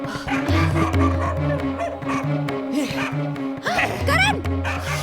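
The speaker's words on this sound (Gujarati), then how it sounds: "આ કૂતરું મને જોઈને..." A dog barks repeatedly in a Gujarati movie scene, sharp yips and barks scattered throughout over a sustained musical drone, with a voice heard faintly in places.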